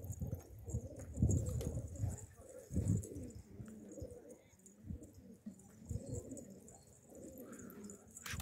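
A stray pigeon coos softly in repeated low phrases at close range, with scattered shuffling and handling noises around it and no clear speech.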